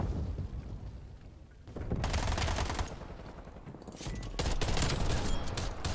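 Call of Duty Black Ops Cold War gunfire comes in rapid automatic bursts, loud and close, with a short lull before heavy sustained firing resumes.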